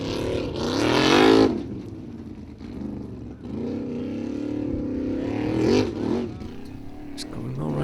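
Formula Offroad car 'the Fox' on a long tricky off-road track in Egilsstadir, Iceland, its engine revving and surging at a distance with rising and falling bursts, under a commentator's steady talk.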